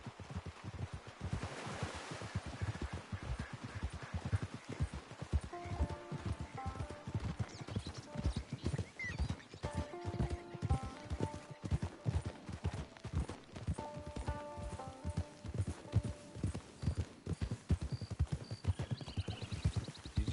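Horse hooves clip-clop steadily in Red Dead Redemption, a continuous rhythmic trot of close, clear hoofbeats with faint outdoor ambience and soft music tones underneath.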